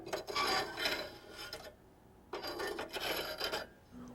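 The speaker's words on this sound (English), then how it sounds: "The burn grate can easily be cleaned with the grate scraper ash pan tool." A grate scraper tool rasps across the burn grate of a Whitfield Quest pellet stove, two close gritty scraping strokes separated by a short pause.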